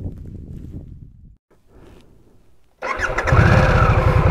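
A Harley-Davidson Nightster motorcycle starts up close by: after a short crank the engine catches and settles into a loud, rumbling idle.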